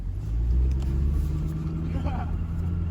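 A BMW 650i engine with downpipes installed rumbles with a deep, steady drone, revving slightly, heard close up with low-frequency throb throughout.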